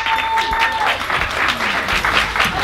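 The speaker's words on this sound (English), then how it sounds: "She missed her applause, so Danielle, stand up" Applause from a crowd at a women's faith and business weekend conference, dense clapping across the whole stretch, loud and close, with a voice speaking over it.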